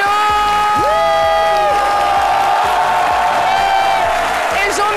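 Loud studio audience applause on a French midday television talk show, steady dense clapping with cheers and whoops throughout, a voice briefly heard over it.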